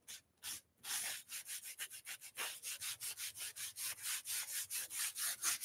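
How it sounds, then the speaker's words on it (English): Rhythmic hand sanding of rough wooden edges, a steady series of about twenty close, scratchy back-and-forth strokes after a brief pause near the start, with no talking. "the wood is like really rough on the edges, so I gotta definitely sand it"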